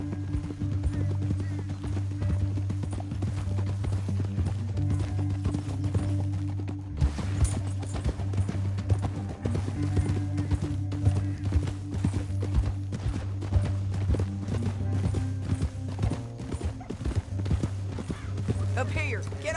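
Horse hooves clip-clop at a steady gallop in the open-world Western game Red Dead Redemption 2, running continuously under a sustained droning music bed with only a brief dip partway through.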